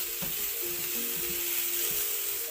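Zucchini and meat sizzle softly in a pan while being stirred together, a steady faint frying hiss with light scraping strokes and no talking.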